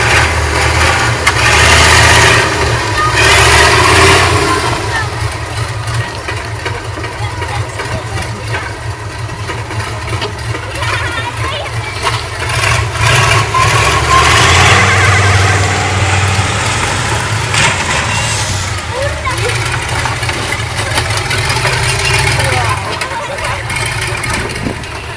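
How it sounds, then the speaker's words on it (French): A monster truck engine at an outdoor demolition show, loud and sustained with rising revs and rumbling low end throughout, crowd noise and an announcer talking over it. "Monster Truck,"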